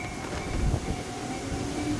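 A Tobu Noda Line train pulls away from Tsukada Station, a brief rumble of wheels with a thin, steady electric motor whine above it, fairly close.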